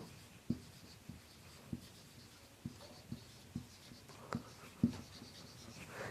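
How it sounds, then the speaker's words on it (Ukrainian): Pen strokes scratching on paper during an English grammar lesson, faint and close, in short separate scratches repeated every second or so against a quiet room. "Тобто, давайте запишемо."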